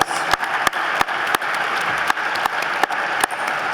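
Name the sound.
audience round of applause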